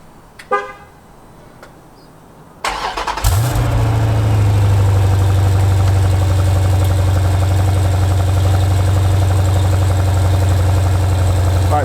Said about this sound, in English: let's get another exhaust sound